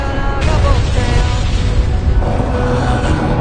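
A power plant blows up in the anime film Kimi no Na wa, a heavy sustained boom with a rumbling roar that stays loud and dense throughout, with a sharp rise in intensity just after the start.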